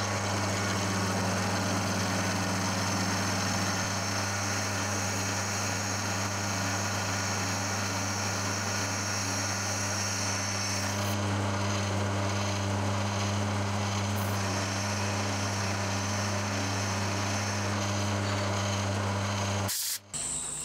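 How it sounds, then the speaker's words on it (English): A milling machine takes a light conventional pass on metal stock for a low-profile clamp fixture, a steady loud mechanical whir and hum running continuously with a faint cutting hiss, stopping abruptly near the end. "I'm going to do a conventional milling pass and then come back with a climb pass"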